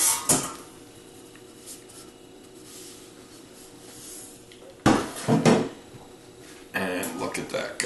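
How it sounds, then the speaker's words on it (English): A metal cake rack set over a pound cake pan and flipped, giving a few scraping, clattering kitchen knocks in separate bursts with quieter stretches between. "I'm going to place a rack over the cake pan,"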